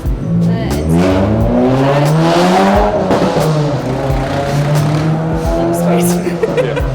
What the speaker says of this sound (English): Around here, we just naturally pause for the motorcycles